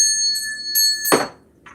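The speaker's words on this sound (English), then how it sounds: "Let's have a bell, shall we?" A hand bell rings out several times in quick succession, bright clear tones with long shimmering overtones, ending in a dull thunk as it is set down, heard near and loud during a live psychic news broadcast.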